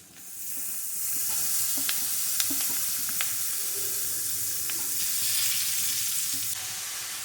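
Onion and beetroot fry in a pan for beetroot rice, a steady close hiss of sizzling with a few light scrapes and taps from stirring, swelling slightly near the end.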